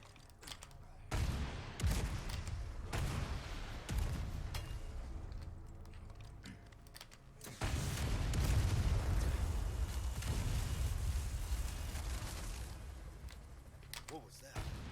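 Rapid gunfire and booming blasts from the Krauser boss fight in Resident Evil 4 Remake on PS5, dense bursts running throughout with a louder barrage in the second half, with talk mixed in.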